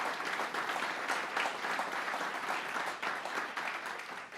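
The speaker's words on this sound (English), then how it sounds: "Let's give him a round of applause, Jonathan Soros." Luncheon audience on campaign finance reform applauding an honoree, a steady, full roar of many hands clapping, fairly close and sustained throughout.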